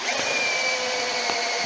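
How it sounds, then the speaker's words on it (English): A power drill bores steadily into a turned wooden lamp body, a continuous loud whine with the motor pitch holding throughout. "when you're drilling a lamp, withdraw your drill bit frequently"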